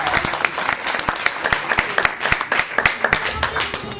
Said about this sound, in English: they do deserve a round of applause from all of us